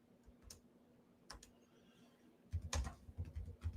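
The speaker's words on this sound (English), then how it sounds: "typing this in to see if it's there" Someone types on a computer keyboard, a few scattered clicks at first and then a denser, louder run of keystrokes close to the microphone.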